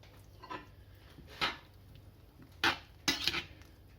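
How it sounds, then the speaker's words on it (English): A pot of 18th-century-style venison stew with kitchen pepper is opened and stirred, giving a few separate metallic clanks and scrapes of a utensil against the pot in an otherwise quiet room. "then we're going to open it up, give it a bit of a stir, check on it"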